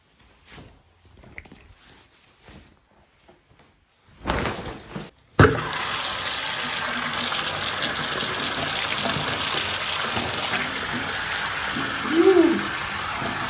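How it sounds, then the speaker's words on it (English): Tap water gushes steadily into a sink to rinse dirt from a wound, a continuous loud splashing stream after some quieter handling noises and shuffling at the start. "I'm gonna go upstairs and rinse it out with water"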